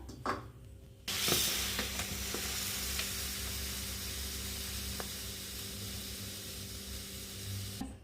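Roasted rava mixed with sugar in a pan for rava laddu, a quiet steady sizzle-like hiss with a few soft scrapes and taps of the stirring spoon, close and low in level.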